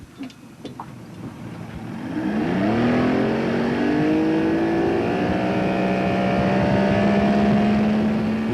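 Motorboat engine running with a 21-inch pitch propeller fitted, an OMC outboard setup, rising in pitch as it accelerates and then holding a loud, steady drone over wind rush.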